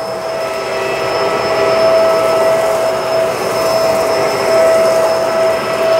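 A Bissell MultiClean Lift-Off Pet vacuum runs on carpet with a steady, close, whining motor drone and a constant tonal whistle that holds throughout without a break.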